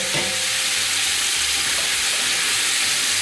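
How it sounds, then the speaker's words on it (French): Sliced onions hit hot oil and meat juices in a pan for a Tunisian ganaouia stew, giving a loud, steady sizzle with crackling spits, close and uninterrupted. "j'ajoute maintenant dans le jus de viande et dans l'huile les oignons"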